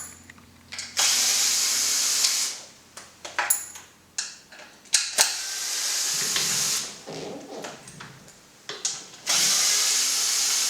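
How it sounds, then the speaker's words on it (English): An electric screwdriver works the screws of a sealed diesel ECU casing, with bursts of high motor whine broken by short ratcheting clicks, small metallic pings and brief pauses, heard up close. "So first, I use the electronic screwdriver just to make"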